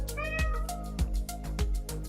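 A domestic cat meows several times in quick succession, close and clear, with short, rising tonal cries and no talking.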